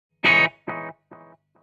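An electric guitar chord through a clean amplifier with delay rings out and repeats three more times, each echo quieter, the last barely audible.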